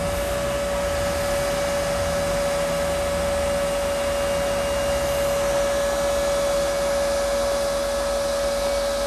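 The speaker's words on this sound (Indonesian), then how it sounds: "Saya nyalakan kipas supaya cepat dingin." An electric fan running beside a phone repair bench, a loud steady whir with a constant tonal hum that holds unchanged throughout, with no voices.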